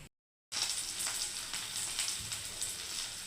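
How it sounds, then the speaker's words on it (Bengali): Okra (bhindi) fries in hot oil in a wok with a little salt added, and after a brief silence a loud, steady crackling sizzle sets in and runs without a break. "এখনও ভাজা হচ্ছে, একটু পরে তুলবো বন্ধুরা"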